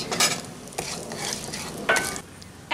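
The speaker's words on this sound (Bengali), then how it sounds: "এখন এই তেলের মধ্যে ফোড়ন দিয়ে দিচ্ছি একটা তেজপাতা আর দারচিনি আর এলাচ" Whole spices temper in hot oil, a bay leaf with cinnamon and cardamom, after cashews and raisins have been fried. A constant sizzle runs under intermittent stirring scrapes and light metallic clinks against the pan. No one speaks.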